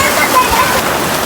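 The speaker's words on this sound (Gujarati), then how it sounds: "આ નાળો છે આખું ભરાઈને જાય છે નાળું" Floodwater rushes through a brimming drain in flooded Varal village near Sihor after a cloudburst, a loud, close, continuous roar of churning water throughout.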